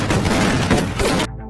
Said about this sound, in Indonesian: Ned beradu tembakan dengan kelompok kartel tersebut